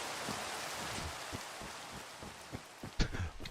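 Steady rain in a Minecraft-style video game makes a soft, even hiss with scattered patters and drips. A few sharper taps come near the end.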